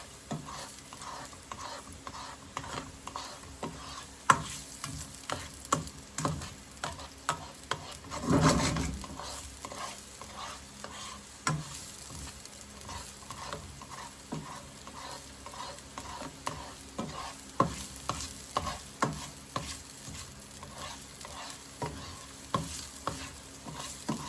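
Red onions sizzle in hot oil in a pan while a utensil scrapes and stirs them in irregular strokes, a steady close frying hiss with no talking.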